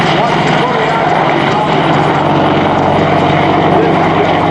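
An AH-64 Apache attack helicopter with 1,700 horsepower flying at the 2022 Dayton Air Show, producing a loud, constant rotor and turbine drone with steady blade chop from close by, with an announcer's voice speaking over it.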